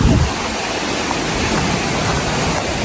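Full river water rushes around a village, a loud, even broadband roar of flowing current heard up close and continuous with no voices.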